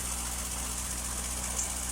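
A 1979 MGB engine idles with a low, even hum and a steady mechanical thrum, unchanging and fairly quiet, with no voices over it.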